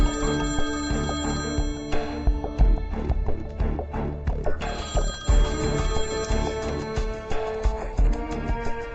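In a TVB drama scene, a telephone rings with a repeating electronic tone, its ringing bursts heard over a busy layer of other sound effects and music.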